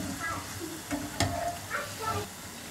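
Chicken pakoras fry in hot oil, a quiet sizzle with a few brief clinks and stirring scrapes rising above the low bubbling.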